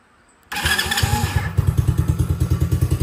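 An X-Pro X15 110cc dirt bike engine catches after a short cranking burst, then settles into a close, loud, steadily pulsing idle with a choppy single-cylinder thump.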